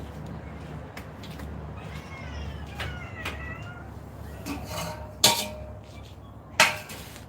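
A cat meows several times in a quiet room, with faint clinks of dishes and a couple of sharp knocks near the end.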